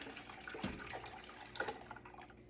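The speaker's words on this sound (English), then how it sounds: "So we're going to pour our milk" Milk pours from a half-gallon jug into a pot for making mozzarella, a faint gurgling liquid stream with a couple of glugs, quiet and close without talk.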